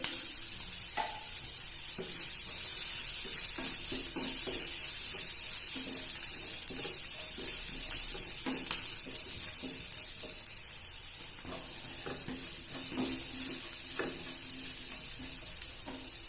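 Onion, green chili, garlic and curry leaves crackling in hot tempering oil with mustard seeds and cumin, a steady close sizzle dotted with small pops and occasional stirring clinks throughout.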